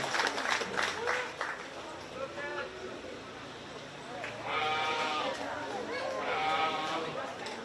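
Sheep bleat repeatedly in a 4-H sheep show arena at a county fair, wavering cries in several bursts, rising louder toward the end, mixed with a scattering of applause and a loudspeaker announcer.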